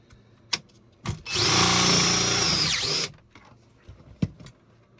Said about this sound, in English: You got 6 of these self-tapping screws, and we're just going to screw the bottom in first.